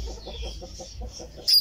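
A Brahma hen clucks softly in a backyard coop while sitting on a clutch of eggs, giving a run of low, steady clucks and ending with a brief sharper call.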